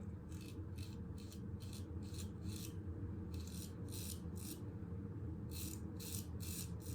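A Trevor Woodson RWL34 Inox straight razor rasps through facial stubble in short, close scraping strokes, grouped in rhythmic bursts over a steady low background hum.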